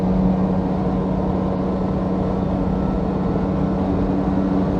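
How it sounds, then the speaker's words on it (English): Daihatsu Fellow Max with a small 356 cc two-stroke engine, driving on the road: a steady, buzzing drone with a strong low hum, continuous and close throughout. "Sounds like a little aeroplane engine."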